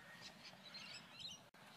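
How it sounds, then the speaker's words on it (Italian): Birds chirp and call on an empty street at seven in the morning, small scattered tweets sounding faint and distant over a steady outdoor hush, with no talking. "Sono solo gli uccelli."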